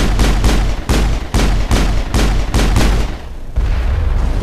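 Loud rifle shots from the sci-fi video game Mass Effect sound about twice a second in a steady rhythm, each a sharp crack with a booming tail, then pause briefly before firing resumes.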